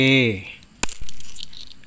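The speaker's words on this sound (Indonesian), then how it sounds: "uang koin Malaysia dengan nominal 20 sen tahun 1968" Malaysian coins, including a 20 sen piece from 1968, give a single close metallic clink after a brief hum, followed by one softer knock.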